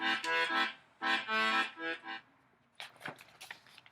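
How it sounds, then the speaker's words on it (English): An accordion plays a short bouncy phrase of reedy chords in a few pulsing bursts, close and clear, followed by a softer rustle of scattered sounds. "This is an accordion."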